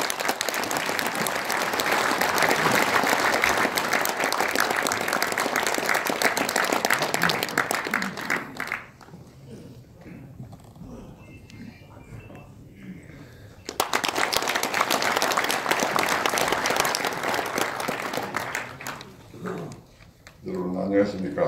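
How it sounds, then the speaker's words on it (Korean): An audience applauds to welcome a former prime minister at a launch ceremony for a group of retired generals, with a long burst of clapping, a quieter gap, then a second sustained round. "우리 노재봉 전 총리님을 힘찬 박수로 맞이해 주시기 바랍니다."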